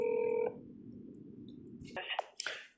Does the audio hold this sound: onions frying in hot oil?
no